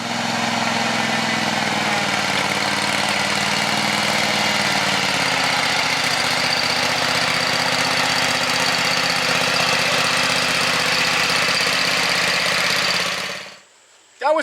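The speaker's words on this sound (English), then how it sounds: "I'm going to go ahead and get on the Kubota and fire it up so I have power steering and brakes" A Kubota L120 garden tractor's small engine idles steadily and loudly for a long stretch with a slight shift in its hum midway, then cuts off abruptly before a brief knock at the end.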